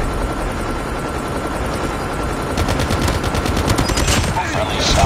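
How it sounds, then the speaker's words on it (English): In Call of Duty Mobile, a stealth helicopter's thrumming rotor drones steadily while loud bursts of rapid gunfire break in and keep rattling through the second half. "Hostile stealth chopper inbound."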